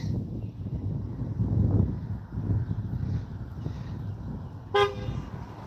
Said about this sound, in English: I have no clue who that was or why they honked at me.